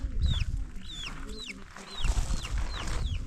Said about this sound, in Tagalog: Kagadahan dito kay Jazz, yung mga labuyo, pinuhuli nila ng buhay